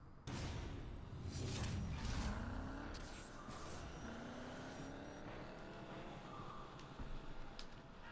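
Race car engine in the Need for Speed Payback video game, a sustained loud roar with revving and shifting pitch sweeps, whooshing passes and occasional tire squeal throughout.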